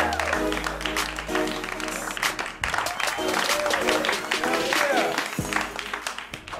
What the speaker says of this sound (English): A big round of applause for Alex Tsakanikas.